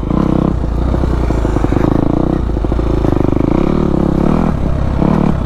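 A Kawasaki KX250F dirt bike engine revs hard while being ridden with the back tyre sliding, a loud, close, steady buzzing drone that keeps up without a break.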